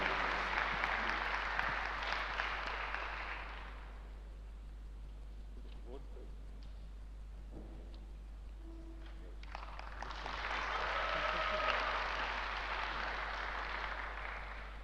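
Audience applause at a national youth forum in Armenia: a loud burst of clapping fades around four seconds, a quieter lull with scattered noise follows, then a second strong wave of clapping rises from about ten seconds to the end.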